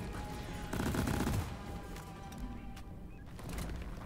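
Automatic turret gunfire in the Deep Rock Galactic video game, a dense rapid burst loudest in the opening seconds and then continuing as scattered shots amid game noise.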